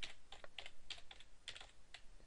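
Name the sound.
typing on a computer keyboard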